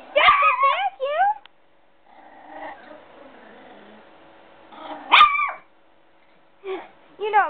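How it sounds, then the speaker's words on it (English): A puppy gives several high, sharp yaps close by at a vacuum cleaner, with its low mechanical hum in the gaps and more barks near the end. "You're ferocious, Missy. Get that vacuum"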